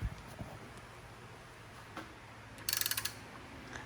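A VW 2.0 TSI engine is turned over by hand, and its timing chain tensioner gives a quick, close run of about six sharp ratcheting clicks after some scattered faint ticks.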